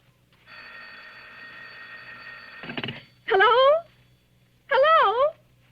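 An old-fashioned telephone rings in a 1940s radio mystery drama, with a sustained buzzing bell tone followed by a clatter and then two loud, wavering electronic warbling rings set apart in a quiet room.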